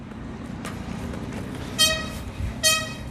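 Roadside noise with a low steady rumble of passing traffic, broken by two short car horn toots near the end.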